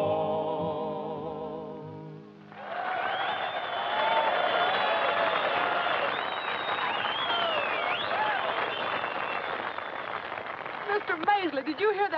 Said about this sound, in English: Did you hear that crowd cheering?